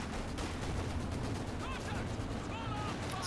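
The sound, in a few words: AT gun firing at a unit in Company of Heroes video game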